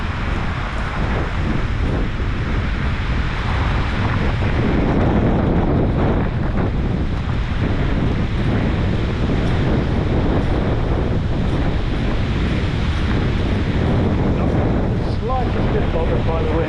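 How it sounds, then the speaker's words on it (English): Strong wind buffets the microphone in heavy, continuous gusts, a loud blustery rumble that shifts in intensity throughout with no clear voices. "Slightly bit bothered by the wind."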